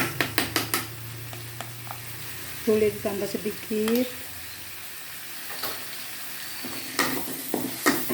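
Spice paste stir-fried in oil in a pan for a chayote or chinese squash lodeh, with a steady sizzle, spatula scrapes and clinks against the pan, and a brief spoken phrase midway.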